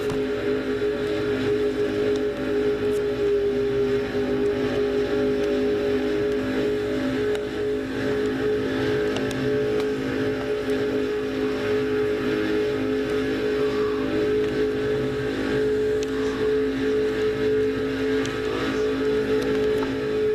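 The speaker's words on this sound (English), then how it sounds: "That's what's like to ride inside a car at over 205 miles an hour here at Daytona." Onboard a Dodge stock car, number 27, racing at over 205 mph at Daytona: a steady, loud engine drone with road and wind roar that holds constant and close throughout.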